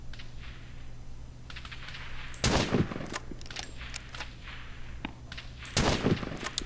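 Gunfire in the video game Rust: two short, loud bursts of rapid shots a few seconds apart, over a steady low hum and faint keyboard clicks.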